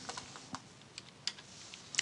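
Someone types measurements into boxes on a computer keyboard, with sparse, quiet, irregular key taps and a short burst of clicks at the end.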